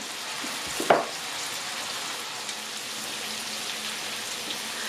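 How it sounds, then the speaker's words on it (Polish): Steady crackling sizzle of sausage frying in a pan, with a brief clatter near the start, continuing evenly throughout. "Kiełbaska mi się podsmaża"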